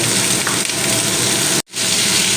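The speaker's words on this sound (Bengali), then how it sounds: "কেটে রাখা আলুগুলো একটু ভেজে নেব" Cut potatoes frying in a pan with salt, a loud, steady close-up sizzle that cuts out for a brief moment near the end before resuming.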